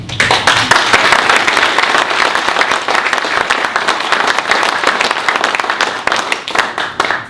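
An audience claps loudly and continuously after a speech at a youth speaking event, dense sustained applause from a large crowd that holds steady for several seconds before easing slightly at the end.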